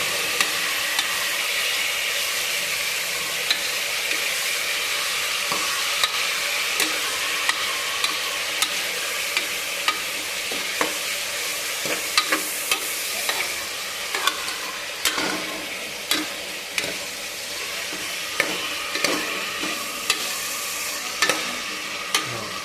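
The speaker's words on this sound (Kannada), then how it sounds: "ಈಗ ನೋಡಿ ಡೀಪ್ ಫ್ರೈ ಆಗೋ ರೀತಿ ಇದಕ್ಕೆ ಎಲ್ಲ ತಿರುಗಿಸ್ಕೊಳ್ಬೇಕು ಚೆನ್ನಾಗಿ" Spicy chicken curry fries in a pan while being stirred, giving a continuous bright sizzle with scattered scraping clicks from the spoon throughout, close and steady, with no talking.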